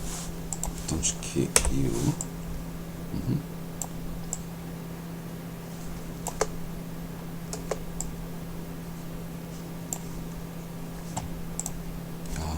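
Scattered clicks of keys being pressed on a computer keyboard while working in After Effects, sparse and irregular over a steady electrical hum, with some speech early on.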